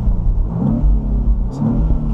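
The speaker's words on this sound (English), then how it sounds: "Automatically you can hear the engine if I give it some revs." A 2015 BMW Z4 sDrive20i M Sport engine is revved from inside the car, giving a close, steady mid-pitched engine drone with several quick rises in pitch as the throttle is blipped.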